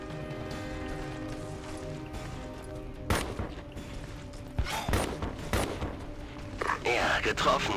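Gunfire in the video game Ghost Recon Advanced Warfighter 2 cracks out as several sharp, separate shots spaced irregularly over a low background hum, with a short burst toward the end and a voice heard faintly in between.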